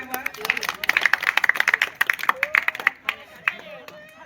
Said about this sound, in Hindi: जोरदार तालियां एक बार।